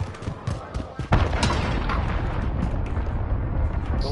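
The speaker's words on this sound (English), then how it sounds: "Enemy cruise missile." A cruise missile strike explodes in Call of Duty: Modern Warfare, hitting with a sudden loud boom and then a sustained heavy rumble and debris roar that carries on to the end.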